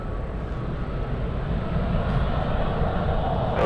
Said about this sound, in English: And the 777 cleared for takeoff.